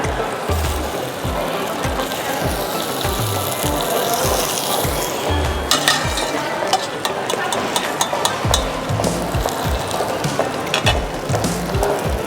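Gnocchi rolling and frying in a pan give a steady close sizzle with repeated rhythmic clicks and scrapes as the pieces are turned, continuous throughout with no talking.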